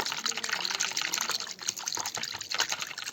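Water poured and splashed over the feet of a Laddu Gopal deity idol as it is washed into foam, a continuous close gushing and trickling wash with a faint voice underneath.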